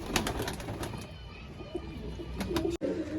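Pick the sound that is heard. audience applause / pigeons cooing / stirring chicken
pigeons cooing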